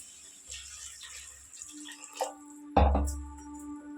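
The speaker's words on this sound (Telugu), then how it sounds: "ఇప్పుడు కొంచెం వాటర్ పోసుకుందాం మనము" Water is poured into a pan of broad bean and egg curry, with a few faint drips and trickles and then one sharper splash near the end, quiet and close.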